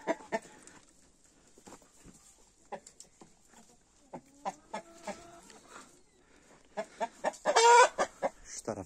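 Splash and red-blue Wyandotte hens and roosters cluck in scattered, short bursts close by, with a louder drawn-out call near the end among quieter background clucks.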